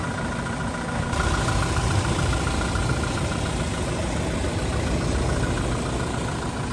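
A 2016 Toyota Revo pickup's 2.4-litre turbodiesel engine idles steadily with a low, rough rumble, constant and fairly quiet throughout, with no voices.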